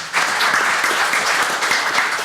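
An audience applauds to welcome a speaker at a 2015 academic forum marking 70 years since Korean liberation, steady dense clapping filling the hall without voices.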